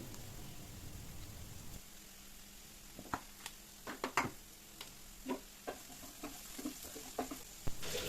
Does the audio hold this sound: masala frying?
yes